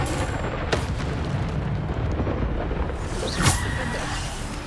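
Booming spell blasts from the Bombarda curse in Hogwarts Legacy erupt amid ongoing combat noise, with a sharp hit early and a brighter burst with a whooshing tail near the end.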